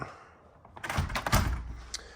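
A hotel room balcony door at the Edelweiss Lodge in Bavaria tilts open from the top when its handle is pulled, giving a few close clunks and rattles after a quiet start.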